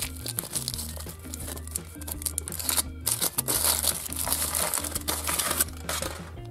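Foil wrapping being crinkled and torn off a large Choki-Toki chocolate egg, a steady close rustling that runs the whole time over soft background music.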